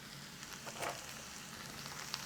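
A stir-fry sizzles steadily in a hot pan, with a soft scrape of stirring partway through, quiet and close.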